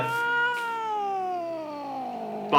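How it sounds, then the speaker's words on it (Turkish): A single long, drawn-out cat meow in Minecraft that slowly falls in pitch, loud and close, with brief noisy bursts near the start. "Bak bu kedi sesi normal değil arkadaşlar."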